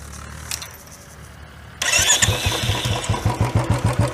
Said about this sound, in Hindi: अभी मैं सिर्फ स्टार्ट कर दिखाता हूँ, आरपीएम और इंजन का साउंड आपको थोड़ा सा हल्का सुनाई देगा।